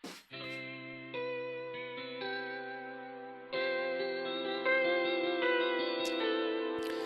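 Sustained chords and a melody filtered to sound thin and narrow, like music heard through a telephone line, steady and fairly quiet, from the telephone effect of the Fracture Sounds Hemisphere instrument.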